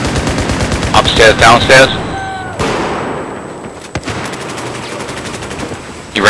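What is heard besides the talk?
gunfire in Battlefield 4 Operation Locker video game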